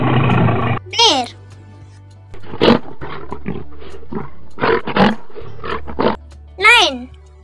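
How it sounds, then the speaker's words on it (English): A lion roars in a deep, rough burst at the start, then a sequence of shorter grunting calls and chirpy sounds spaced out over several seconds, close and fairly loud. "Lion."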